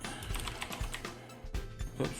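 Rapid typing on a computer keyboard, a steady run of close, crisp key clicks with a few louder strokes, no voices.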